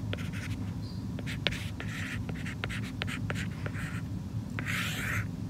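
Pen or marker writing on a surface while a common denominator is worked out, with quick scratchy strokes and taps close up over a steady low background hum, no speech.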